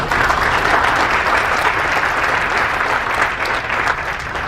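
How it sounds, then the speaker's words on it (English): A crowd at the groundbreaking ceremony for an SK battery plant in Georgia gives a round of applause, a thick, steady wash of clapping that continues evenly throughout. "So again, a round of applause for SKinobeation, please."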